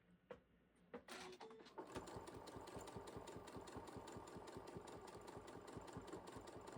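Domestic sewing machine stitching the side panels of an in-the-hoop tote bag, starting after a few soft handling knocks and then running as a steady, close, rapid mechanical whir with even needle clatter throughout.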